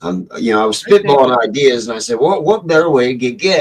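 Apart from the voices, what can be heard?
None of the usual background noises is heard.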